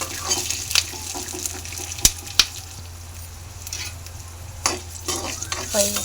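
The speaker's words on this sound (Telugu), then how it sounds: "పల్లీలు అనేది ఇలా త్వరగా వేయించుకోవాలి" Peanuts fry in a pan with a close, steady sizzle, while sharp scrapes and clicks of stirring land at irregular moments over about six seconds; no one speaks.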